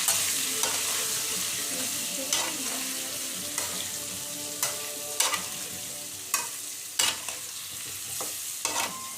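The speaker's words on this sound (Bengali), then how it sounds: "সামান্য একটু হলুদ, তারপর আলুগুলো ফ্রাই করে নেব।" Potatoes frying in oil with turmeric give off a steady close sizzle, broken by sharp scraping stirs at irregular intervals.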